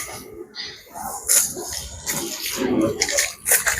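Water is sprayed in short uneven bursts onto freshly laid concrete at a construction site, a close hissing splash that rises and falls.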